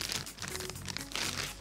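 A plastic piping bag crinkles and crunches softly as it is handled in a kitchen while a filling is prepared for baking moulds, producing short, quiet, close-up rustles.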